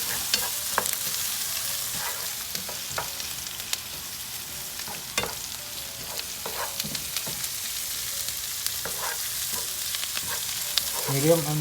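Fish and sliced onions fry steadily in oil in a pan for a Kerala-style fish molee, a continuous close crackling sizzle with occasional scraping stirs and clicks of a utensil throughout, no voices.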